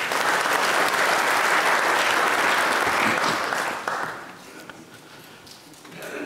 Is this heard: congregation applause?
yes